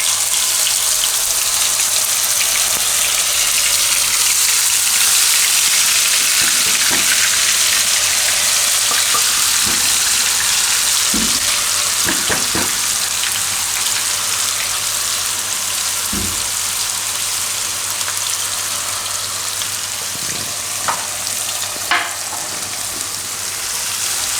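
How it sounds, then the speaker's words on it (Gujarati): Ginger, chilli and garlic paste fries in hot oil with a loud, continuous, close sizzle, broken by occasional soft knocks and scrapes from stirring, with no voices. "આપણું તેલ ગરમ થઈ ગયું છે એમાં પહેલાં આપણે નાખશું આ બધું આદું મરચાં અને લસણ"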